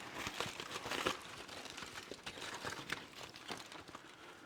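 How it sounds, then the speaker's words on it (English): Wrapping crinkled and torn away from a grilled veal kidney in a kitchen, a run of soft close crackles and rustles at low volume. "And we unwrap our kidney."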